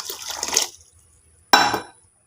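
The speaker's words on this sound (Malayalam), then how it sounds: "ഇനി വെള്ളം പാർന്ന് വെക്കുക" Water pours into a pressure cooker holding rice for an oil-free, ghee-free biryani in two short splashing bursts, close by, separated by a brief pause.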